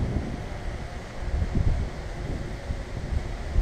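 Strong wind buffets an outdoor microphone during a drone flight, a continuous deep rumbling roar that swells and dips unevenly for a few seconds, with no voice over it.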